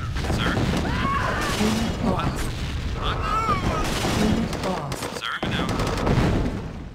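Gunfire in a real-time strategy game: bursts of shots and booms keep going under unit voice responses and a player talking throughout, loud and busy.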